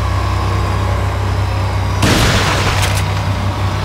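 Gunfire in a video game goes off as a sudden loud burst, followed by a couple of sharp close shots within a few seconds.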